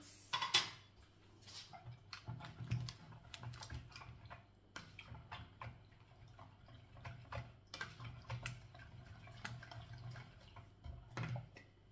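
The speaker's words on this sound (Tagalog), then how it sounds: "Mix, mix, mix." Ingredients being stirred in a bowl, with a steady run of clinks and scrapes from a utensil against the dish, moderately close, with no talking.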